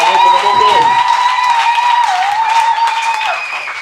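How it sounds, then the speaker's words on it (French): Congregation applauding in a church, steady clapping beneath a prominent sustained tone and voices, loud at first then fading toward the end. "Applaudissons fortement."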